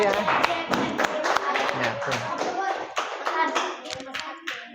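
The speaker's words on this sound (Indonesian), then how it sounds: "Beri tepuk tangannya." Classroom audience clapping together after a student group's presentation, a brief burst of dense, close applause with some voices mixed in.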